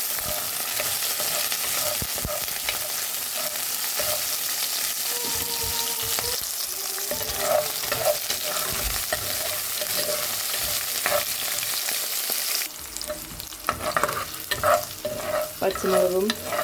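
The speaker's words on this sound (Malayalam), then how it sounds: "ഇതിലേക്ക് നമുക്ക് ചെറിയ ഉള്ളി, പച്ചമുളക്, 2 പച്ചമുളക് കീറിയത്, കറിവേപ്പില ഇട്ട് ഇളക്കി കൊടുക്കാം." Shallots, green chilies and curry leaves fry in oil while being stirred with repeated scraping strokes. A loud, dense sizzle runs throughout and briefly thins near the end as the stirring goes on.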